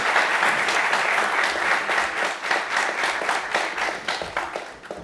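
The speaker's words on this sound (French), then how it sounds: "Merci d'applaudir très fort à Dalié Léandre." A studio audience on a French midday TV show gives strong applause for Dalié Léandre, loud sustained clapping that thins toward the end.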